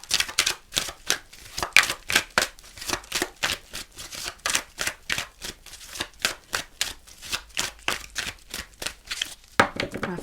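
A deck of tarot-style cards is shuffled by hand in a quiet room, a close, regular series of crisp riffling bursts repeating roughly twice a second for the whole stretch.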